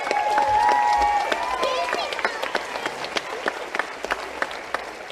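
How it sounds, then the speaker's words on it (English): Clapping from a crowd of club members honours the volunteers at a Galway football club event, sharp individual claps standing out over a murmur of voices and a brief tonal sound early on. "So a huge round of applause to Gareth and Paul and all the volunteers in our club"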